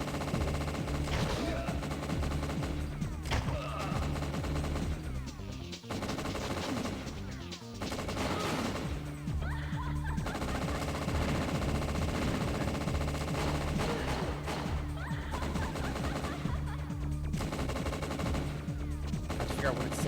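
Repeated gunfire in the N64 shooter WinBack, dense bursts of rapid shots and crackling volleys with short pauses between, loud and close over a constant game backdrop.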